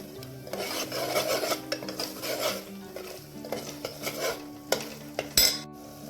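A spoon stirs Kathiawadi dhaba-style dum aloo gravy in a pan, producing repeated rasping scrapes against the metal over a soft sizzle, ending in a sharp clink close by.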